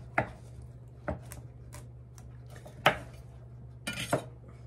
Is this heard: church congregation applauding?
no